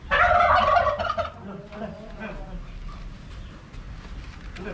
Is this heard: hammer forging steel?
no